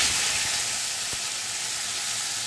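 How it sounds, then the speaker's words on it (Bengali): Kochur loti sizzles in a wok of hot mustard oil tempered with black cumin, a loud, steady frying hiss close up with a faint stirring knock, no voices. "এবার কচুরলতির জন্য আমি কড়াইতে সর্ষের তেল দিয়েছি আর তাতে কালো জিরে ফোড়ন দিয়েছি"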